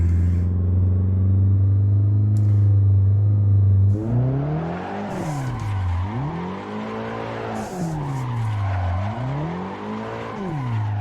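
A drifting car in the racing game Assetto Corsa drones loudly as the driver blips on and off the throttle, engine pitch swooping up and down in repeated waves with a faint tire hiss underneath.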